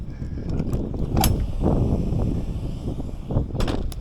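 Kwikee power step gearbox mechanism running on its own with the assembly disconnected, a low churning mechanical rumble marked by a few short clicking and rattling bursts, fairly close and steady over several seconds.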